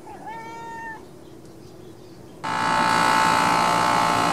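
A cat gives a short, clear meow up close, then a pause of quiet background, then a loud steady electric buzzing hum starts abruptly and continues to the end.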